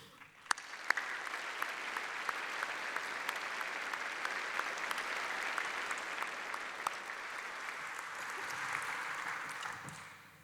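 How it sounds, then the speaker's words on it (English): Graduation ceremony audience applauding university staff, a broad, sustained wash of clapping that swells quickly, holds steady for several seconds, then tapers off at the end in a large hall. "I would ask that you join me in thanking the staff in the university through applauding them with me."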